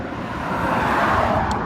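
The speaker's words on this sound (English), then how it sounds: "I apologize for all the cars here. This is a country road" Cars pass on a small country road at rush hour, a steady, fairly loud rushing hum of tyres and engines swelling slightly as a vehicle goes by, with no talk.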